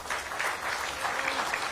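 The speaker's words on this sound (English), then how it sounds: "We can thank them by clapping our hands." Conference audience applauding panelists at a safety and health at work event, a brief patter of scattered hand claps, fairly faint and steady.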